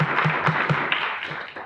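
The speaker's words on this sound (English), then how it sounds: "please refrain from applause" Brief applause at a board meeting, a room of people clapping in a steady, moderately loud patter that fades out quickly.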